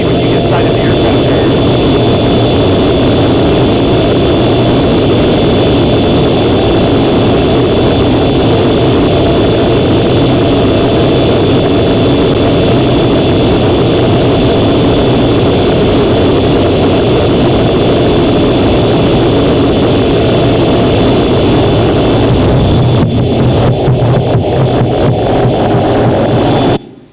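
A jet aircraft approaching an aircraft carrier to land, heard as a loud, unbroken roaring engine drone that holds steady for nearly half a minute with a voice talking over it.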